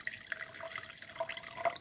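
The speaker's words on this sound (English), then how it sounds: "pour a little bit of apple cider vinegar in" A short, quiet trickle of apple cider vinegar poured into a container, thin and close, with a faint high ringing tone running under it.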